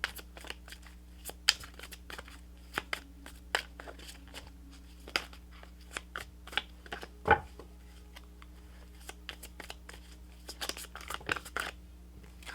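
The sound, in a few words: shuffling tarot cards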